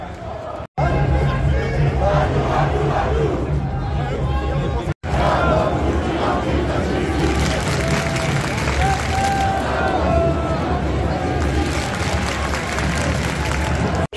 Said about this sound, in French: Chaque déplacement des forces de l'ordre est observé et hué par la foule.